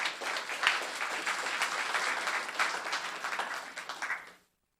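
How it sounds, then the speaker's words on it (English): A second round of applause at a Los Gatos town council meeting, steady dense clapping from the gathered audience lasting several seconds and then stopping abruptly. "let's have one more round of applause for her"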